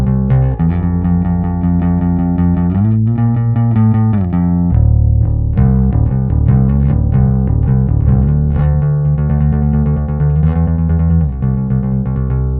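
A heavily distorted bass guitar through a Darkglass setting on a ToneX plays a steady riff of sustained, gritty notes, loud and continuous with no voices.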